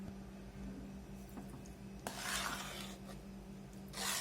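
Sweet potato barfi mixture with milk powder stirred in a pan over low heat, a soft scraping and rubbing of a spoon against the pan, quiet and steady with a few louder scrapes.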